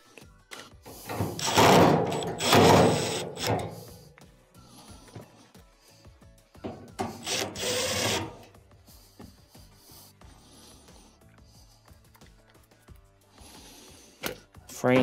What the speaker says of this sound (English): Now let's reinstall the 4 screws.